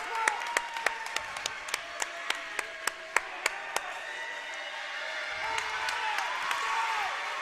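A high school varsity basketball crowd claps in a steady, rhythmic beat, then the claps dissolve into a broader swell of applause and cheering from the stands late in a close game.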